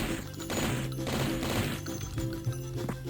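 A napalm launcher fires in the video game Blood, dense loud blasts and crashing bursts overlapping in quick succession with a rough, continuous roar beneath.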